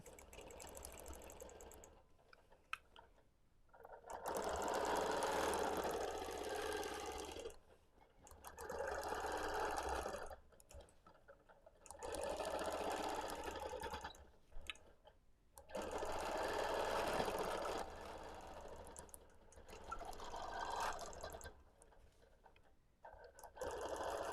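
A BERNINA sewing machine stitching a scrappy quilt, running in about five steady whirring bursts of several seconds each, with short quiet pauses between them; close and even.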